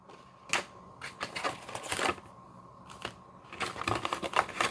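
A foil booster pack of trading cards is torn open in a run of short crinkly rips and crackles, close and fairly quiet, with brief pauses between bursts.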